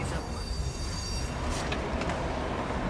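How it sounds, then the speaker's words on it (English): Train rumbling by on tracks overhead at an elevated New York station, a loud, steady low roar with wheel rattle and brief metallic squeal, heard up close beneath the structure. "The noise of the train,"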